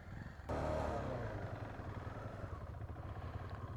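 Motorcycles on an extreme off-road ride in Nuwakot, setting out from Helambu: a steady engine drone kicks in abruptly after a brief quieter moment and holds at a constant, fairly close level with some rattling.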